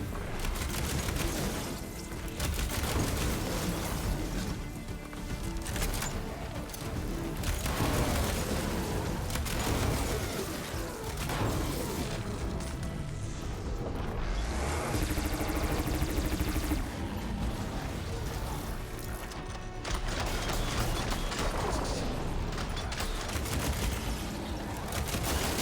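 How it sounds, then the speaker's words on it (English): Sustained combat in Horizon Forbidden West as a player fires at a huge machine creature, with repeated shots, booms and explosive impacts layered into a loud, continuous wash of battle noise. "I'm just gonna shoot it from up here"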